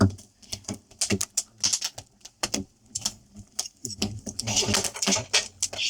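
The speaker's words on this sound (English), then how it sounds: "You hear them cracking." Chestnuts roasting on an open fire, their shells cracking in a scatter of sharp, irregular pops and snaps close by, with soft crackling between bursts that grows busier toward the end.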